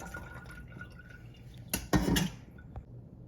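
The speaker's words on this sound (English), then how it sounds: "just pouring my stock through that" Homemade chicken stock is poured through a funnel into a jar, with a brief splashy, gurgling pour in the middle and quiet kitchen ambience around it.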